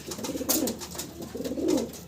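Pigeons coo in low, throaty bursts, a racer and its mate among fancy pigeons, with two soft rolling phrases close by and a brief brighter rustle in between.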